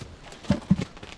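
Horses walking, with three dull hoof thuds close by in an uneven rhythm over a faint background, no talking.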